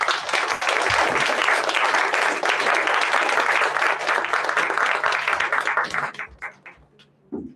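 An audience at a graduation performance gives sustained, dense applause that stays loud for around six seconds, then thins into a few scattered claps before stopping.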